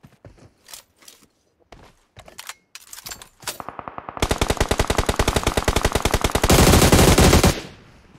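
Gunfire in the mobile battle-royale game PUBG Mobile begins as scattered single shots and short bursts. It then builds into loud, rapid, sustained automatic fire with a harsh continuous rattle near the end, close and dominant with no talk.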